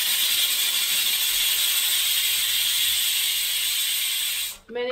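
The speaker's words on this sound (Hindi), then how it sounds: "मैंने कुकर में चढ़ा दिए हैं आलू" A pressure cooker holding potatoes gives off a loud, steady high hiss of escaping steam that runs unbroken, then cuts off abruptly just before the end.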